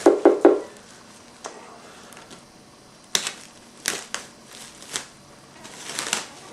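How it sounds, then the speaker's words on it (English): A few sharp snips of scissors at the start, then scattered light clicks and rustles of paper or plastic being handled close by, with no talking. "Now I'm just going to cut it with these scissors here."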